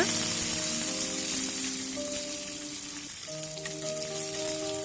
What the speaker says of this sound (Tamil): இதை லேசாக வதக்கிக்கலாம், ரொம்ப செவக்க வேண்டாம், சிறு தீ வச்சு வதக்கிக்குங்க.